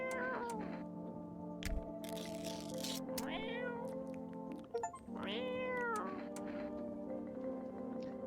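Cats meowing in the video game No, I'm Not a Human, several drawn-out meows over a steady humming game soundtrack.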